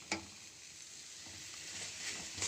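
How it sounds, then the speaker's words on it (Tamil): Tomatoes softening in a pan for chutney, a faint, even sizzle with a couple of light taps at the start and end, quiet and unbroken, with no talking. "சட்னிக்கு தேவையான தக்காளி நல்லா வதங்கிடுச்சு"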